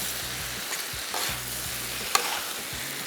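Tawa keema with green chili and coriander frying on high heat, a steady close sizzle with stirring scrapes throughout and one sharp click near the end, no voices.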